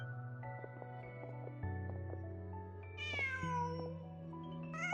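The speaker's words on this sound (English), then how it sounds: "Just a cat." A cat in the video game Genshin Impact meows over a soft, steady musical background; one clear, drawn-out meow rises partway through, and a second short meow starts right at the end.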